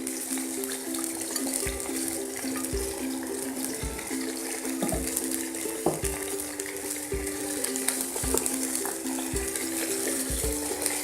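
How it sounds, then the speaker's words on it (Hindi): Cauliflower and potatoes for aloo gobhi fry in oil with a steady close sizzle, while a spoon stirs and knocks against the pan in a regular rhythm. "और आलू और गोभी को फ्राई करते रहेंगे तेल में 5 से 6 मिनट तक"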